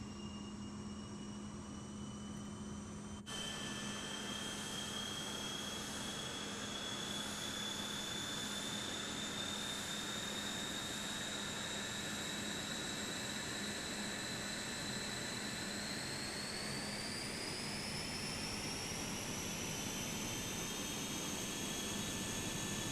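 A T-38A jet in a flight simulator spools up with a steady rising whine over a constant low hum, the high tones climbing in pitch partway through; loud, continuous and alone without voices.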